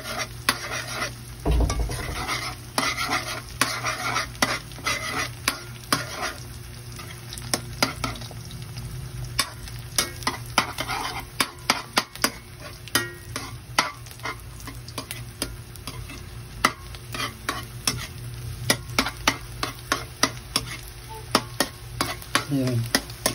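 Fried rice with egg for chaw fan being stirred in a pan, steady sizzling frying under repeated scraping and clinking of a spatula against the metal, close and continuous.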